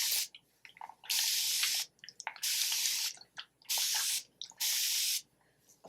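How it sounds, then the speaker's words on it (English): Several short hissing bursts from a spray bottle misting water onto hair roots, close by, with brief quiet gaps between each spritz. "I'm going to spray my roots and stuff with some water"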